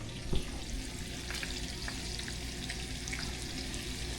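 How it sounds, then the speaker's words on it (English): Bacon frying in a pan gives a steady, close crackling sizzle with scattered pops, low in level and running alone without speech. "I'm just cooking freaking bacon and talking to you"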